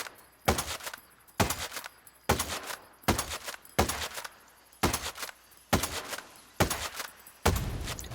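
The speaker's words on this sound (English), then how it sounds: "This is the Scorpio Scout DMR damage testing on the Landscape Mark II." Scorpio Scout DMR rifle fired in Ghost Recon Breakpoint at a Landscape Mark II vehicle, nine or ten loud, sharp single shots evenly spaced about a second apart, each with a short ringing tail.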